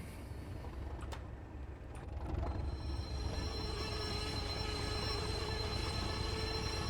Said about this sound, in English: It could just be squealing flanges.